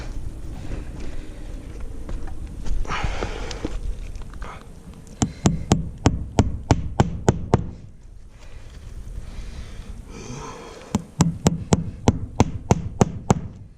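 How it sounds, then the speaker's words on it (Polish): Hammering roofing nails while flashing roof vents with shingles on a roof: two bursts of rapid, sharp, close hammer blows, each about a dozen strikes, separated by a quieter stretch of rustling and handling noise. "Teraz powinienem bić i tu papiaki"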